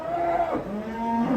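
Cattle coming off a truck give two short, close moos in quick succession, the second lower and drawn out, with steady noise behind.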